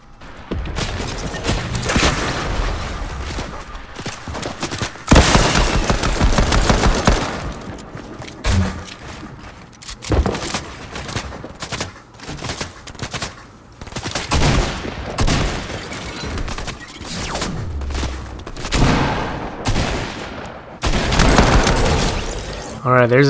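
Pistol gunshots in the video game Fortnite, fired in scattered bursts of sharp cracks and booms with short pauses between volleys, loud and close, while someone talks over them.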